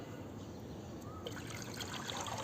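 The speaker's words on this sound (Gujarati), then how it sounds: "આપણે કૂતરા હાટું પાણી ભરી લઈ એટલે આખો દિવસ એને હાલે" Water trickling and pouring into a bowl set out for dogs and puppies, a soft continuous splash that grows a little brighter partway through, heard fairly faintly and alone.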